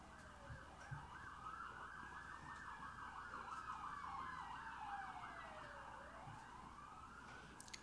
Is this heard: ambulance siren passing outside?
yes